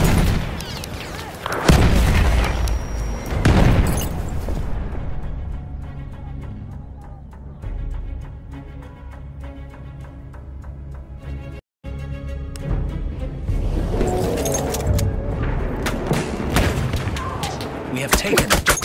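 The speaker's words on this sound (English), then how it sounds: "Enemy machine gun over there!" Machine gun fire and explosions in a trench warfare video game: loud booms and rapid bursts at the start and end around a quieter, steadier stretch of distant gunfire, with a brief dropout midway.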